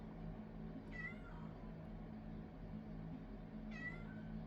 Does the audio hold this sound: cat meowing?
yes